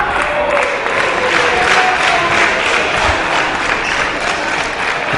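Crowd cheering and applauding in a wrestling arena during a Dragon Gate USA event, a steady, dense roar of clapping and shouts that stays loud and even throughout.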